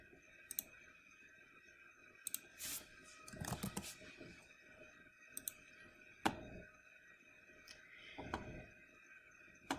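Keyboard keys click sparsely as an answer is typed, a few scattered taps and short clusters, faint and close in a quiet room.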